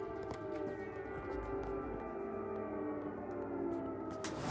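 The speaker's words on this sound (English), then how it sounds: "sirens are going off" Air raid sirens wailing across Kyiv, Ukraine during wartime, a sustained layered howl of distant civil defense sirens droning steadily with slight pitch wavering and faint background clatter.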